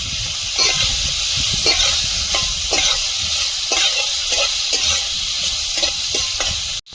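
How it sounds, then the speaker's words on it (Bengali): Shrimp fries in a pan with onion, tomato, green chilli, salt and turmeric, a loud close-up sizzle that hisses on without a break while rhythmic stirring scrapes keep time beneath it, ending in an abrupt cutoff. "টমেটো পেঁয়াজ একটু নরম হয়ে সেদ্ধ ভাব হয়ে যাওয়া পর্যন্ত চিংড়ি মাছের সঙ্গে ভেজে নেব"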